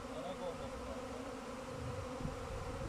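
A swarm of honeybees arriving and settling onto a beehive, a dense, continuous buzzing hum close by, steady and moderately loud with no pauses.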